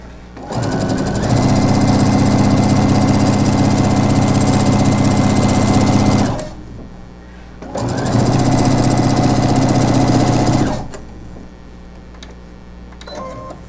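A sewing machine stitches cloth napkins close to the edge in two sustained runs of steady, loud mechanical whirring, separated by a quiet pause for adjusting the fabric and pulling pins.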